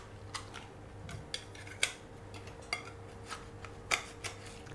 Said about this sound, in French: On ouvre les noix de Saint-Jacques à l'aide d'une grande lame de couteau.